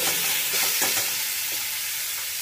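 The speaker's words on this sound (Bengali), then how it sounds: "তো এই নুনটা দিয়ে আমি ভালো করে এটাকে মিশিয়ে নিচ্ছি। এটা কিন্তু ভাজা ভাজা হয়ে গেছে।" Salted ingredients sizzle steadily in a hot pan while a utensil stirs them in a few quick scraping strokes, close and without any talk.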